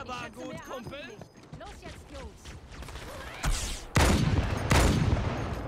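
Gunfire from the player's weapon in Halo 2, arriving as heavy broadband bursts in the second half, loud and close, following a stretch of talk and mixed game sounds.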